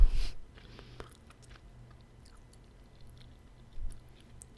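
Gum being chewed right up against the microphone, with soft, sparse wet clicks and smacks that come and go over a quiet background. A slightly louder burst of chewing starts and ends the stretch, and no one speaks.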